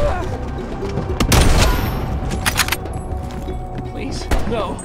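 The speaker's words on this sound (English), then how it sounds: "They're shooting at us!" Loud gunfire rattles in bursts during a Call of Duty: Black Ops Cold War campaign firefight, with sharp cracks and a heavy boom over dense battle noise while voices shout nearby.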